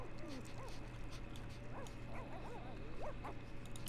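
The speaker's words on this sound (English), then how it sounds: "Is that dog, like, being neglected or something?" A dog in The Sims: Unleashed whimpers and yips in short, rising cries over a steady background hum of game ambience, moderately close and repeated throughout.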